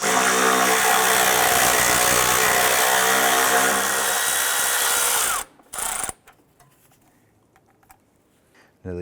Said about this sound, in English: I'm going to remove this 10mm bolt right here.